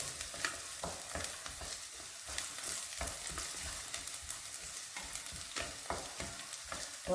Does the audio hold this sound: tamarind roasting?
yes